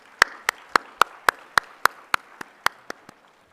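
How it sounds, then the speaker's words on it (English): Audience applause at a university orientation program honoring the Dean, heard as a steady run of about a dozen evenly spaced, crisp claps that gradually soften and fade out. "a huge round of applause for our Dean"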